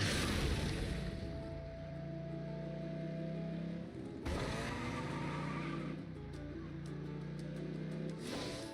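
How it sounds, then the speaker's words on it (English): Car engines roar and rev continuously in Genshin Impact, with a steady loud mechanical drone, a brief break midway and then a renewed surge, mixed with game music. "Rev the engines!"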